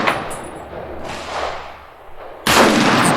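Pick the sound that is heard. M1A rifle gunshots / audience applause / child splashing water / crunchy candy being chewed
M1A rifle gunshots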